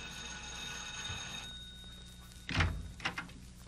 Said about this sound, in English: she never quite knows who she's going to find at the front door when the bell rings